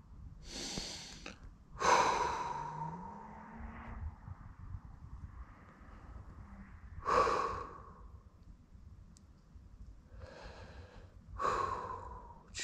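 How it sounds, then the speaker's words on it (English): A person sits outdoors on a Dartmoor hillside overlooking a reservoir and takes slow, deep breaths, about four long inhale-exhale cycles, close and soft with quiet pauses between. "Thought I'd just sit down for a minute"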